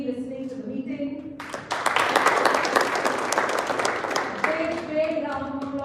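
A voice speaks at a Toastmasters meeting, then a burst of applause from a group rises and carries on for a few seconds before speech resumes.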